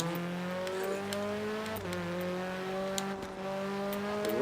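Fiat Abarth 695 Biposto engine in a Forza racing game, a steady buzzing drone that holds pitch and rises gently through a gear, with a brief dip near the middle as it overtakes a Mini.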